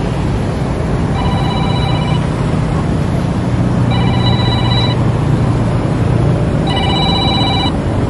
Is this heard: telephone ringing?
yes